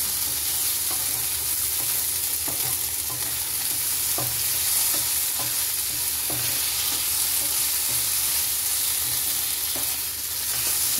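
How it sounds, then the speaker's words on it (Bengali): Sliced bitter gourd fries in a pan with a steady sizzle, while a utensil scrapes and stirs it at irregular intervals. "উচ্ছেগুলো ভীষণ শীত, এটাকে আমি ভালো মতন করে ভাজা ভাজা করতে হবে"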